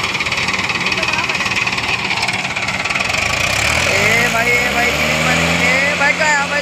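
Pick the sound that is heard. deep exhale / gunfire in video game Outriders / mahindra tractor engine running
mahindra tractor engine running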